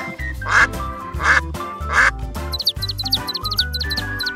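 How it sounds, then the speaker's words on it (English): A duck quacks several times in short bursts over a bouncy musical backing, ending with a quick run of rapid quacks. "duck"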